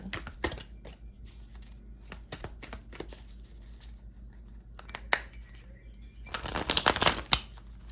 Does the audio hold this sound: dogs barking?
no